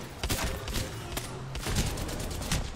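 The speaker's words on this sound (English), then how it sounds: "I'm shooting decoys" Rapid video game gunfire as a player shoots at decoys. Dense, continuous bursts of shots overlap in a loud, unbroken barrage with no pauses.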